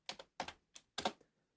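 Several quick keystrokes on a computer keyboard, close and crisp, arriving in short uneven clusters with no voices.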